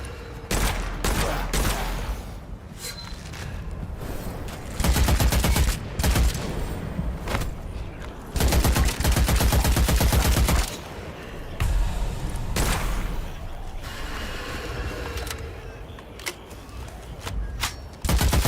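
Rapid bursts of gunfire from various guns in the video game Witchfire, loud repeated volleys separated by short pauses, with heavy blasts and thuds mixed in across a long firefight.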